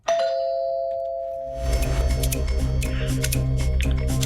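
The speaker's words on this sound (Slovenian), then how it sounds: "Mi bomo zdaj pozvonili." A doorbell at a house front door gives one sustained ding, then a second ring layered with repeated bright tones and clicking as it continues, loud and close.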